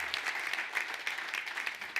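Church congregation applauding during a service, a dense, continuous patter of many hands clapping at moderate distance throughout.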